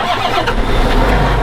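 A farm tractor engine cranks and catches at harvest time, a loud low rumble that steadies into a continuous idle, with no talking.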